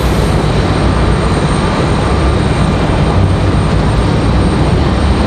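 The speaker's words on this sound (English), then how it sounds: "Southwest 1904 coming from Dallas. Going to be the next arrival for the airport." A Southwest Airlines jet arriving from Dallas at Raleigh-Durham airport gives a loud, steady broadband roar of engine noise, constant and close throughout with no voices.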